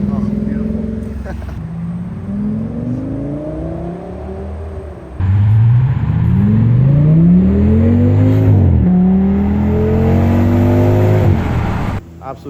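An Audi S8 sedan's V10 engine revs repeatedly at a car meet in Los Angeles, with rising and falling sweeps, the later blips louder and closer. People talk over it.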